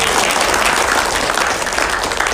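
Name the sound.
audience applause at a meeting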